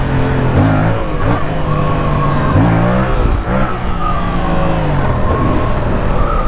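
A 2024 Yamaha MT-07 motorcycle engine barks and revs hard in first gear, close and loud, its pitch climbing and dropping through repeated bursts of throttle.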